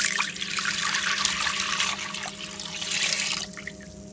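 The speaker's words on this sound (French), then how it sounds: "Donc je vais mettre l'eau." Water pours from a container into the bowl of a Moulinex Companion cooker, a close, continuous splashing stream that thins to a trickle and drips near the end.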